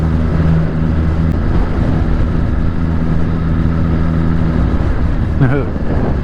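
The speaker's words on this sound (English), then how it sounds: "it's definitely wind inside the helmet" Steady roaring wind buffets a motorcycle helmet while riding with earplugs in, a dense low rumble that persists throughout, with a brief rise of engine tone near the end.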